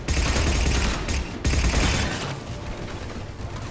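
Mounted gun firing in Mass Effect 3, dense rapid bursts of gunfire with mechanical clatter, loud and close, a brief break mid-way before firing resumes and gradually thins.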